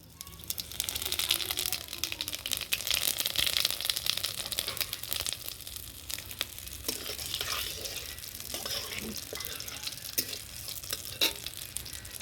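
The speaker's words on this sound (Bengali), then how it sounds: "তারপরে যে তেল ছিল সেই তেলের মধ্যে আমি দিয়ে দিচ্ছি গোটা জিরে দারচিনি আর হচ্ছে এলাচ" Whole cumin, cinnamon and cardamom frying in hot oil left in the pan after frying fritters for a cabbage dish, a steady close crackling sizzle with small pops and stirring rustles.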